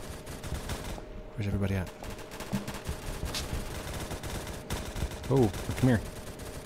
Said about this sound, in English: Who's shooting? Stop shooting. Don't shoot me.